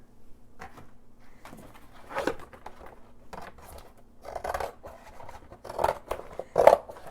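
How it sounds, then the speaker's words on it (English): Old scissors cutting through hard-cover journal material, a series of quiet, close snips and scraping crunches spaced irregularly, growing a little louder toward the end. "I just take a pair of old scissors that I don't care much about, not your good sharp ones. And I'm just cutting it like this."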